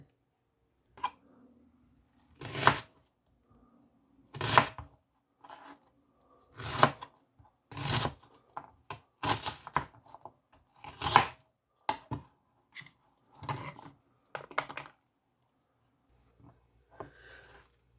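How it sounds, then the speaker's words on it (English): Onion and cabbage being chopped with a knife on a cutting board, close by: a series of sharp, separate thuds with pauses between them in a quiet kitchen. "I'm going to go ahead and get started on chopping up the onion and the cabbage."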